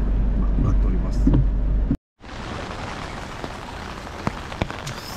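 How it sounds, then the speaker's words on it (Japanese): Heavy rain falling outdoors in a city street in Kinshicho, Tokyo, a steady broadband wash after a brief cut, with muffled voices and traffic-like rumble earlier and a few sharp drips or knocks. "がっつり雨ですね、雨降ってます"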